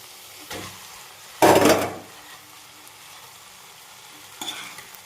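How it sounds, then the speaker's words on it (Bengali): Pasta tossed with vegetables and sauce in a pan for a spicy egg pasta, with a short loud burst of stirring and sizzling, then a quiet low sizzle and one brief scrape near the end. "পাস্তাগুলো দিয়ে আমি সমস্ত সবজির সাথে নেড়ে চেড়ে একটু ভেজে নেবো"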